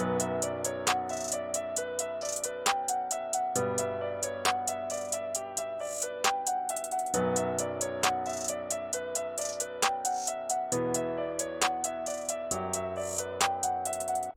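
Two-step hi-hat pattern with quick rolls, ticking rapidly through a hard Memphis-style FL Studio 20 beat alongside a periodic clap, loud and continuous throughout, with no voices.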